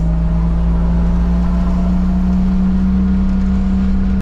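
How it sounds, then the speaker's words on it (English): A single-turbo 2JZ Toyota Supra Mk IV cruises in traffic, its steady droning exhaust and engine hum running close and loud without pause, with a strong constant low tone and no talk. "Just effortlessly passing people in traffic, and turbo noises,"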